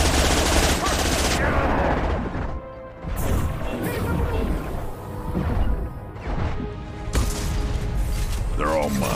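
Rapid bursts of gunfire and crashing impacts in the sci-fi shooter Mass Effect 2, a dense, loud barrage of shots that pauses briefly and resumes, with someone talking over the combat.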